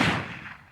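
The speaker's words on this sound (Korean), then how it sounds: "총성이 울린다." A single gunshot sound effect in a horror audio drama, one sharp loud blast that decays quickly into a fading reverberant tail.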